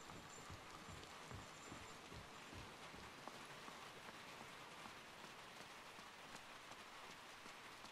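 Steady rain falls in the side-scrolling game INSIDE, a dense, even hiss of drops pattering on surfaces with soft low thuds scattered through it, fairly quiet and continuous with no voices.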